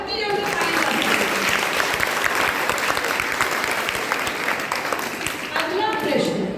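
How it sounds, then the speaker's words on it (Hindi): Audience at a school quiz contest for girl students of classes 6 to 8 gives a loud, sustained round of applause for a correct answer, fading briefly near the end before resuming. "जोरदार कितनी जल्दी ताली बजाएं।"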